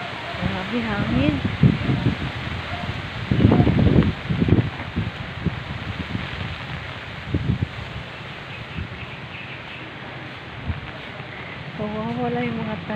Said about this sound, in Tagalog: Marami hangin.